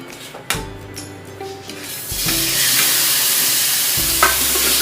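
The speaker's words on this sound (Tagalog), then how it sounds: "And then we will add the chicken and stir fry it just to brown the sides." Chicken pieces dropped into hot olive oil in a thick pan, hissing and sizzling loudly with scraping stir strokes and a few knocks, the fry growing steadily louder and steady.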